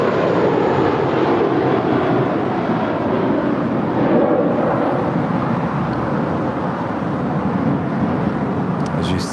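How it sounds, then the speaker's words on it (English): Lufthansa Airbus A340-600 taxiing to the Tom Bradley gates at LAX, a loud, continuous engine rumble and whine that holds steady throughout. "As you see the Lufthansa A340-600 finally making her way into the gates of Tom Bradley"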